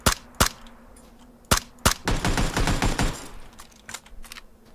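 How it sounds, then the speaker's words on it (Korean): Several sharp gunshots in the video game PUBG: Battlegrounds, then a rapid burst of automatic fire, followed by a few scattered shots fading off, fairly close and with no talking. "위에서 총소리 한번 더 났음"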